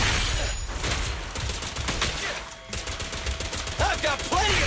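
Gunfire in the action game Zenless Zone Zero: rapid, loud bursts of shots packed tightly over a few seconds with a brief pause midway and layered with other combat effects, with no talking.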